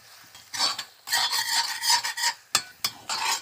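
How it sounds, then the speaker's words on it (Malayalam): A spoon stirring beef brain fry with pepper powder in a pan, giving repeated scraping, rubbing strokes in uneven bursts with brief pauses and sharp clinks against the metal, close and fairly loud, with no talk. "ഇനി നമുക്ക് നന്നായിട്ടൊന്ന് ഇളക്കി കൊടുക്കാം കേട്ടോ"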